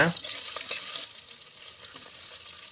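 Shallots and curry leaves fry in a pan for a restaurant-style intestine gravy while being stirred, a soft hissing sizzle with light scraping that eases off slightly.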